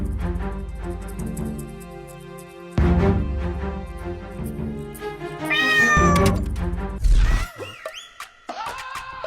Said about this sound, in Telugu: అది పిల్లిరా